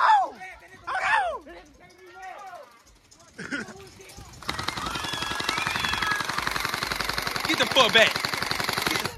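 Splat R Ball gel blaster toy guns fire in a fast, continuous rattling stream of shots. Excited shouting voices come first, and then the close, loud automatic bursts take over.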